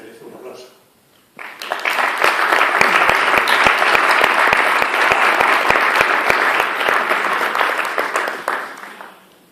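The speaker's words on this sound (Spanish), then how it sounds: "creo que se merece un aplauso" A lecture audience in Mérida breaks into loud applause for a 96-year-old former student, the clapping bursting in suddenly after a brief quiet moment and holding dense and strong for several seconds before tapering slightly.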